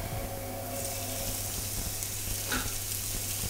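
Chopped onion frying in a pan with a steady broadband sizzle, close and moderately loud, with a brief clatter partway through; no voices.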